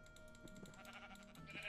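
Sheep bleating in the video game Minecraft, a few short wavering bleats over a faint steady background, quiet and alone.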